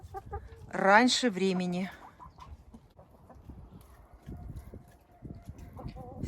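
Hens in a chicken coop cluck close by in a brief burst of loud calls, then settle to softer scattered clucks and rustling while someone speaks.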